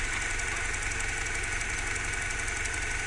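A 2007 Mini Cooper 1.6 engine idles steadily under an open bonnet, heard close up with an even, continuous mechanical rumble and fine ticking, without talk.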